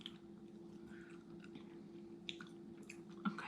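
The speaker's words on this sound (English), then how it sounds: "Okay, why are we still chewing this?" Soft, wet chewing of toffee from a snack crate, close and quiet, with sticky squishing mouth sounds and a few sharper smacks scattered through, no talking.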